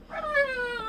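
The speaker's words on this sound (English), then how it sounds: "Sorry about the dog." Dog whimpers once nearby, a thin, high, wavering whine that rises then slides down, lasting under a second.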